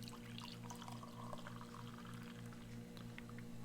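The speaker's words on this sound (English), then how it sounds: "Let's go and blast some little hot water in there." Hot water poured over dark chocolate, a steady continuous pour heard close up throughout, with a faint low hum underneath.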